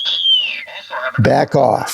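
A regenerative radio receiver breaking into oscillation gives a high whistle that slides slowly downward for about half a second, then someone speaks briefly over the remaining faint tone.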